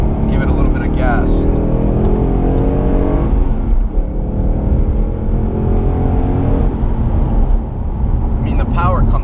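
A Camaro ZL1 or Mustang GT accelerates onto a highway, its loud engine droning and climbing steadily through the gears from inside the cabin, with someone talking over it.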